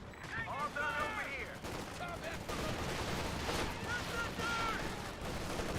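An artillery barrage in the World War II strategy game Company of Heroes 2, dense rolling gunfire and blasts running continuously under a commentator's talking.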